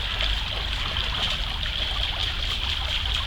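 A stream of water flows in a steady, continuous rush heard on a morning walk, close by and unbroken, with a bright trickling hiss throughout and no voices.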